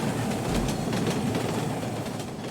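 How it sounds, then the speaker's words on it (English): Train rolling along rails in the video game Root Letter, a steady broadband rumble with faint rhythmic clatter, moderately loud and continuous with no voices. "We go by train."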